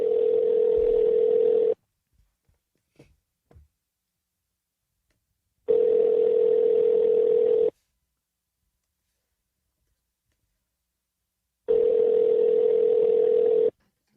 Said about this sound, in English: I'm currently letting a phone ring.